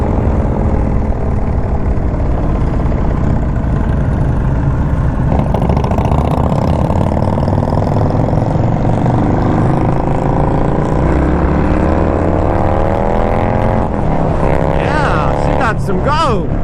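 A 2021 Indian Scout Bobber motorcycle accelerates up a highway on-ramp. The engine drones steadily and close by, and its revs climb noticeably toward the end.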